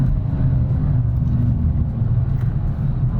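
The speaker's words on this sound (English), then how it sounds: "getting towards the top of fifth gear now, 230 kilometers an hour" A BMW M2 Coupe prototype runs fast in fifth gear at about 230 km/h, giving a loud, continuous low engine and road roar heard from inside the car, with no talking.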